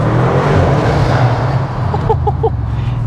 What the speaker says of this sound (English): that's really made some lovely intake noises now